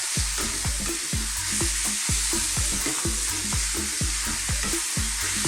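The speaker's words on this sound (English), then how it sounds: "Give that a good mix. Okay, I'm going to throw that around in the pan on this high heat for about 2 minutes." Spices and curry powder for a fast Indian chicken masala curry are stirred in a pan over high heat, with a steady loud sizzle under a regular rhythm of spoon scrapes and knocks against the pan.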